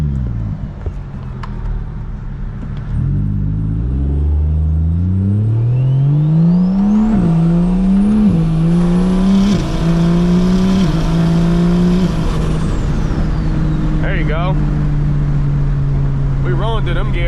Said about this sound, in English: I'll do a little quick takeoff at this one. I'll kind of roll through the gears a little bit so y'all can hear it.